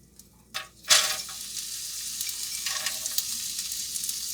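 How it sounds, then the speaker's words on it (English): Frozen peas hit a hot pan with a couple of sharp clatters and then a loud, steady sizzle that continues evenly to the end, close up with no talking. "first I'm going to put the frozen peas in"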